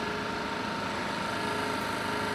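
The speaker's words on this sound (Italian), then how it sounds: "il rumore del generatore per una pompa simbolica" A generator engine runs steadily to power a water pump in a flooded area, a constant mechanical drone with a hum, fairly faint and unbroken throughout, with no voices.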